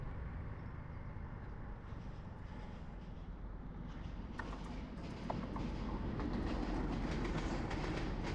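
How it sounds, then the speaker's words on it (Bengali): A train runs along the left side of a road in Gazipur, heard from a passing motorbike: a steady, fairly close rail rumble with faint clatter, growing slightly louder over the eight seconds and carrying no speech. "ট্রেন যাচ্ছে বামে দিয়া"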